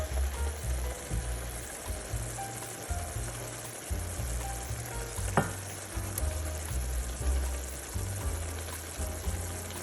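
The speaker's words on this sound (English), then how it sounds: "Now we're adding the shrimp." Shrimp cooking in homemade tomato sauce in a pan over medium heat, giving a continuous close sizzling and bubbling with a low rumble and one brief sharp knock midway.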